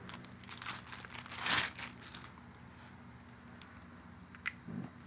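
A plastic carrying case for a half-inch torque wrench is handled, giving crinkly rustling and a sharper crackle near the middle, then quieter scattered clicks and taps.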